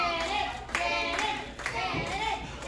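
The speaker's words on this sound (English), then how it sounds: "You can hear the crowd trying to rally behind the Bully Smasher, trying to get him going." Wrestling crowd at an indie show clapping in a rally for a downed wrestler, steady rhythmic claps filling the space with some voices mixed in, fairly close and continuous.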